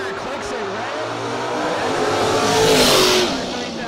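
A Pontiac Tempest drag car at a no box drag race revs and accelerates, its engine note rising and swelling louder toward the end, with an announcer talking over it.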